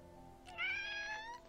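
A pet cat named Toby lets out a single drawn-out meow, close and clear over a quiet room, with no talking.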